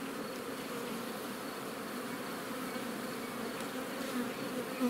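A steady, droning hum of many honey bees buzzing together at an apiary in Moldova, continuous and fairly quiet, with no one talking.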